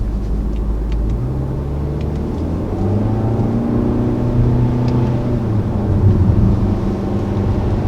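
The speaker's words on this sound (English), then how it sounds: "I'm really impressed by how the new Altima drives" A 2019 Nissan Altima with a CVT transmission driving on the road, steady engine and road rumble from inside the cabin with rising and falling drone, no talking.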